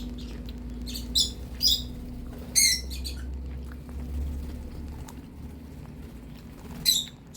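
Lovebird parrots give a few short, bright chirps in scattered bursts over a low steady hum, with a clustered pair early on and another call near the end.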